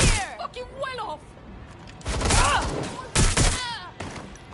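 Bursts of gunfire in the video game Watch Dogs, with loud volleys of shots around the two-second mark and again after three seconds, mixed with shouting voices and game effects.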